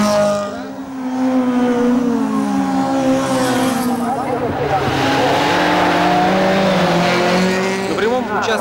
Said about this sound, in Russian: В участке машины разгоняются до 160 км в час, а в поворот входят на 80.